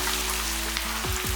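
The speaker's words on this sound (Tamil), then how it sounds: "வெங்காயமும் நல்லா செவக்க வதங்கிடணும்." Small onions and garlic fry in a pan for spicy chutney, a steady close sizzle with faint crackle and no talking.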